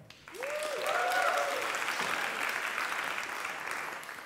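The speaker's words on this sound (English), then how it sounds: "Please, a round of applause for Daniël." Audience applause for a speaker at a machine learning talk, a steady wash of clapping from a moderate crowd that rises quickly and holds, with a brief voice at the start.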